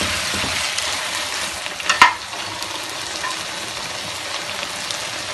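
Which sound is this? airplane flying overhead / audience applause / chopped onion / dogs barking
chopped onion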